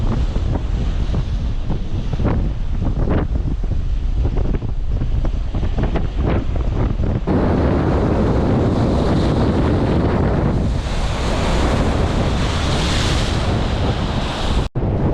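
Strong wind and breaking ocean waves roar continuously on an open-water downwind run from Sequim to Port Townsend, loud and close throughout with steady gusting buffeting, with no talk.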